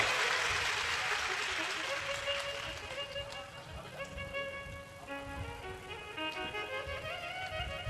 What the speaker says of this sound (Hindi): एक बार जोरदार ताली बजाओ मेरे शिव